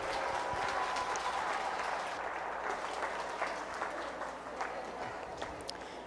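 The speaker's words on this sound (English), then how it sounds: "Let's put our hands together for him at ringside to give him a good round of applause" Crowd applause at ringside during a 4-H swine showmanship class at a county fair, a steady, fairly faint patter of many hands sustained throughout.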